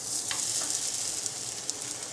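Corn tortilla of white corn flour dough sizzling in a pan, a steady close frying hiss with small crackles and pops throughout.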